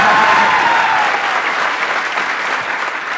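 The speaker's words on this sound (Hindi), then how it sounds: "कैमरा फोकस किया जाए उन लोगों पे जो पूरे दिल से तालियां बजा रहे हैं" A live comedy show audience applauding wholeheartedly, a full, steady round of clapping that starts loud and eases off slightly, with no talk over it.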